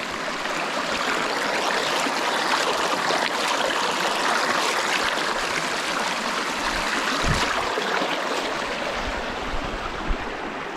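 Cold mountain stream running steadily beside a road, water rushing and gurgling in a dense, continuous broadband wash at close range with no voices.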